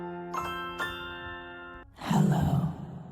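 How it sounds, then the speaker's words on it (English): A bell rings twice in clear, sustained metallic tones that fade, followed by a loud breathy voice sound right after. "Where's that stupid bell?"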